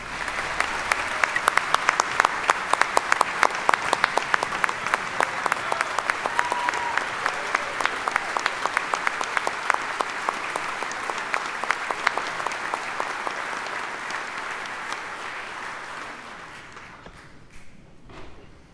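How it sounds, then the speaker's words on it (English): A large crowd at a Mississippi governor's inauguration ceremony applauds loudly and continuously for about fifteen seconds, with close, crisp claps in front, before tapering off near the end. "No surprise, she gets the largest applause of the day."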